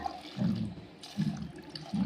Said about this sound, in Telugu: పప్పులు పైకి వచ్చే వరకు పోయాలి వాటర్